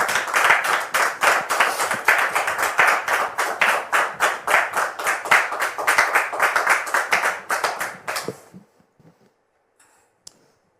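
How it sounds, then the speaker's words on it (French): Studio audience applause on a talk-show set greeting an arriving guest, a dense burst of many hands clapping that holds steady for about eight seconds and then stops abruptly, leaving near silence. "Sous vos applaudissements."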